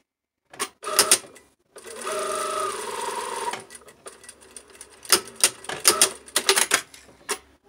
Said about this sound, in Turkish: Şimdi yukarıdan da aşağı doğru çizginin olduğu yere kadar dikelim.